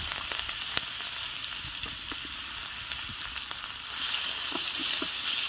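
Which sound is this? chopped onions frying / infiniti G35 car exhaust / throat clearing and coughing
chopped onions frying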